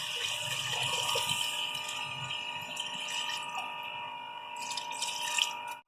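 Water pours steadily into a karahi of beef being cooked, a continuous splashing stream that runs for several seconds close by, then cuts off abruptly at the end.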